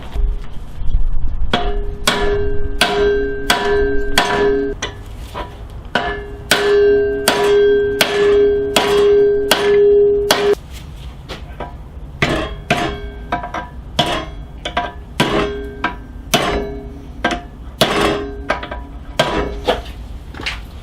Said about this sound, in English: it'll knock the bearing in first, tighten it up, and then we can adjust the pulley